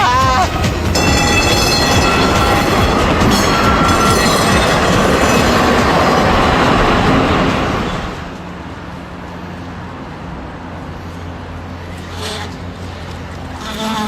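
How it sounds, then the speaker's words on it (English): A tram rolls loudly along its rails through Amsterdam, wheels rumbling and squealing close by for about eight seconds before the noise drops to a quieter street background. "you got to watch out for the trams when you're riding a bike around here because they don't stop for anyone"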